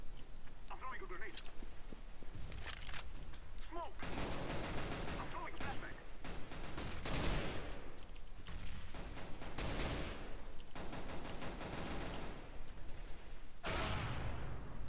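Scout sniper rifle shots in Counter-Strike: Global Offensive gameplay, several loud sharp blasts each trailing into a short decay, mixed with other game gunfire and a steady background hiss.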